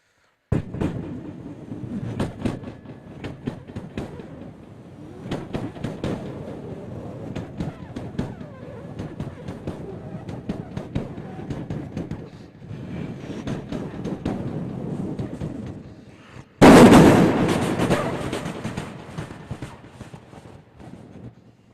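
A performer on a cultural stage vocally imitates two trains passing in opposite directions, one slow and one fast, with a long run of rhythmic chugging pulses and then a sudden louder rushing burst near the end.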